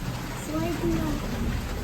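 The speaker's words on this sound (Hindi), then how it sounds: "देखो धूप और बारिश साथ में आ रही है, उजला सा मौसम है लेकिन बारिश हो रही है।" Rain falls steadily in bright sunshine, a soft continuous patter heard close by while a person talks over it.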